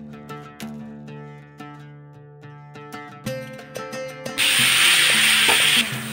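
Papaya pieces are tossed and stirred in a pan over hot spice tempering. Music plays first, then a loud, rough scraping sizzle bursts in for about a second and a half before fading.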